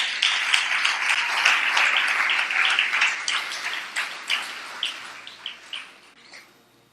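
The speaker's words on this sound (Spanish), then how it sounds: "Dele palmas a su nombre." A church congregation claps during a Spanish-language sermon, a dense run of hand claps that starts loud and steady, then thins into a few scattered, fading claps at the end.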